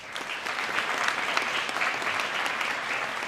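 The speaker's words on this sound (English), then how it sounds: "so please give him a big round of applause." Dense, steady applause from a large audience honoring a Civics Teacher of the Year at a school district meeting, continuous and even throughout with no voices standing out.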